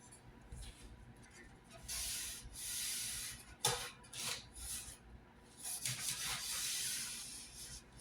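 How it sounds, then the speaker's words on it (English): A tack cloth wipes down sanded timber parts of a 100-year-old band organ windchest, making soft close rubbing swishes in uneven strokes with brief pauses and a light knock partway through. "I'm going to wipe these all down with a tack cloth"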